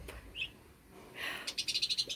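Bird chirps from a small pet bird: a single high note early, then a quick series of rhythmic, bright chirps, close and fairly clear.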